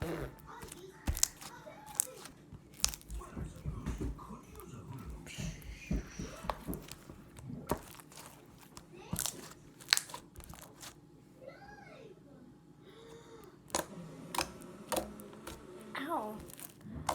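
Glitter slime with hard foam beads being squished and crunched in crackling, crinkly bursts, with a voice chattering over it.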